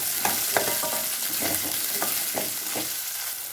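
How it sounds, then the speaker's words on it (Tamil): Small onions with curry leaves fry in oil for Tirunelveli sodhi kuzhambu, a steady sizzle broken by repeated scraping stirs of a spoon, close and fairly loud, no talking. "எண்ணெயில் வெங்காயத்தை நல்லா வணக்கிக்கலாம்"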